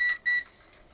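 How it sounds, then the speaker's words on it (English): Two short, high electronic beeps in quick succession from a Zotek ZOYI ZT-703S scope multimeter alarm, each lasting about a fifth of a second, followed by quiet background hiss. "there is an alarm there."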